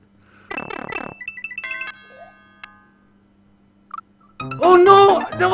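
A bright doorbell-style jingle plays in the Super Mario Maker video game, a quick run of chiming electronic notes followed by sustained tones, then an excited voice breaks in loudly near the end.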